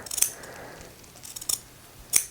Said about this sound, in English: I'm just going to cut my zipper